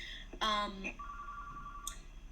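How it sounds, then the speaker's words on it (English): A telephone rings during an online webinar. A short electronic ring sounds first, followed by a steadier tone and a brief chirp, all close and moderately loud against a faint room background. "sorry about the phone ringing"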